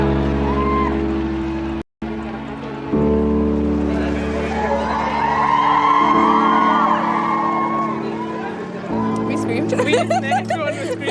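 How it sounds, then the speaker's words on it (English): A crowd outside St. Mary's Hospital shouting, whooping and screaming as the royal family emerges, loud and sustained with voices overlapping, a brief drop-out near two seconds. "Everyone was screaming, trying to get the pictures and videos."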